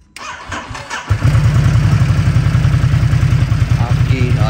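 A Harley motorcycle cold-starts with a short cranking burst, then settles into a loud, steady, throbbing idle close by, with faint background voices early on.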